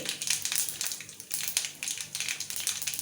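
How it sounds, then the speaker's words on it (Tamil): Mustard seeds spluttering and popping in hot oil while tempering a spicy kozhukattai, a dense crackling sizzle that comes in uneven close bursts. "கடுகு நல்லா பொரிஞ்சு வருது."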